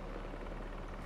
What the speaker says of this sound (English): a helicopter's blades.